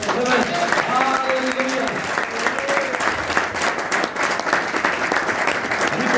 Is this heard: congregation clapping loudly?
yes